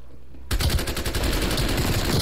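Rapid automatic gunfire in the Call of Duty: Cold War multiplayer game bursts in suddenly and continues as a loud, dense rattle of shots to the end.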